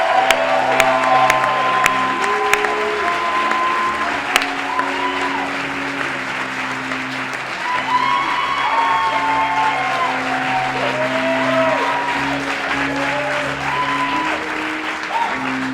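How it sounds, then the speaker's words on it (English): Big crowd applause and cheering as team captains are brought out, a sustained dense roar of clapping with whoops, while loud music with steady tones plays underneath throughout. "I want you all to give a big round of applause as we bring the captains of each team out here"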